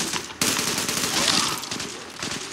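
Dense, loud gunfire from the shooter game Zula fills the whole moment in a sharp burst followed by sustained crackling shots, with faint background voice.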